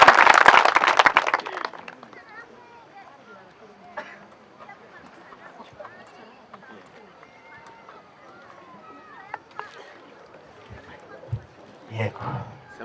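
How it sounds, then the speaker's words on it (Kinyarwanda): Church choir audience applauding its conductor: a loud, close burst of clapping for about two seconds that quickly dies away into quieter room sound with scattered small noises. "Amashyi menshi kuri uyu mubyeyi, abikoze neza cyane."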